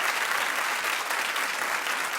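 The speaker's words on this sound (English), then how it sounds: "Clap if you are telling her don't do it." A studio audience on a daytime talk show breaks into steady, dense clapping, loud and sustained throughout, with no voices over it.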